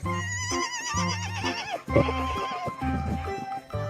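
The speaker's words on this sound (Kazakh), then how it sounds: "Бұл жылқы." A horse whinnies in a long, wavering call, followed by snorts and a second shorter neigh, close and loud.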